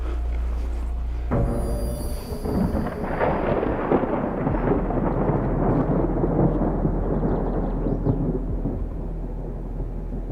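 Thunder rumbles over the Romanian Carpathian mountains as a storm builds, a loud sudden crack that swells into a long, rolling low rumble lasting several seconds.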